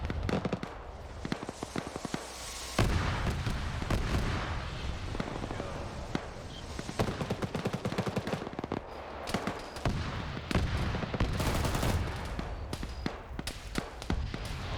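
Autocannon turret in a video game, stuck in place yet still shooting, cracks out rapid, irregular bursts of loud, sharp shots over roughly fifteen seconds, with brief gaps between volleys.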